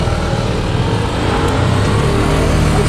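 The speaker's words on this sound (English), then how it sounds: "I'm just gonna let this little bit of traffic go." Loud road traffic rumbles steadily past on a street near a row of shops, a continuous engine and tyre roar with no talking.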